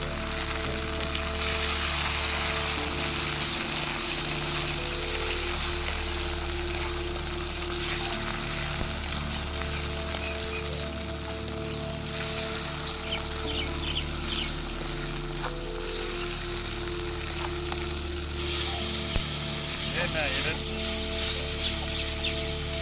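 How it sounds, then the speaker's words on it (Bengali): Onion frying with ginger, garlic and tomato in a home kitchen pan, a continuous broadband sizzle and hiss that holds steady throughout, with a faint background hum. "এবার আদা রসুন দিয়ে দেবো, আর সঙ্গে টমেটো একসঙ্গে ভেজে নেব"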